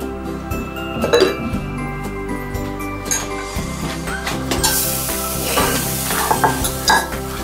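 Dry rice grains rattle and scrape in a hot, oil-free pan over medium heat as they are stirred, with light sizzling and occasional clinks of a utensil against metal.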